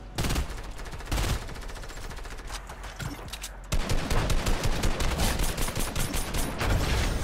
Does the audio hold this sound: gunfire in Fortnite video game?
yes